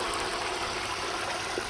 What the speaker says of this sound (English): we're going to very slowly put the turkey inside the pot. You're going to start hearing it sizzle pretty quick.